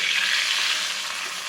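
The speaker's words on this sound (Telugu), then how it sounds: "మన పోపుని ఈ పప్పుకి యాడ్ చేస్తున్నాను" A hot tempering of spices in oil hits a pot of village-style cucumber dal, producing a loud, continuous close-up sizzle that fades slightly toward the end, with no voices.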